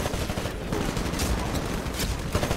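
Rapid automatic gunfire in a Titanfall capture-the-flag match, dense overlapping bursts of shots that stay loud and continuous from start to finish.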